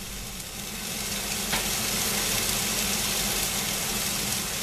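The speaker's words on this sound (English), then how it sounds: "We got a boil here" Liquid at a rolling boil in a pan for a breakfast recipe, a steady close hiss and bubbling rush holding evenly throughout, with no voices.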